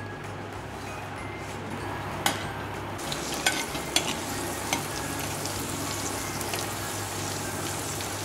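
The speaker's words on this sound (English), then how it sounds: "I'm adding about 5 cloves of garlic, just crushed along with the skins." Crushed garlic cloves, still in their skins, sizzle steadily in coconut oil, a dense close frying hiss with a few sharp pops and crackles and no talking.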